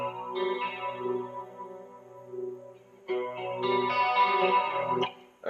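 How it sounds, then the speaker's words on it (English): An electric guitar plays through an amp with distortion effects. A sustained, buzzy chord rings and fades, then after a short gap a second, brighter and louder chord strikes and rings out before cutting off. "I feel if we get too much distortion on this amp, it's going to get muddy."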